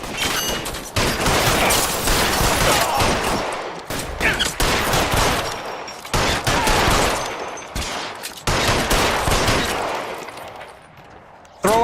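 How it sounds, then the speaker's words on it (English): Police shootout gunfire in the video game L.A. Noire, with dense, loud bursts of rapid shots and fusillades continuing almost without pause over about twelve seconds, broken by a few brief gaps, while voices shout now and then. "Fire a warning round."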